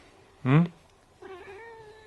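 A single short, close cat meow, followed after a pause by a softer drawn-out tonal vocal sound.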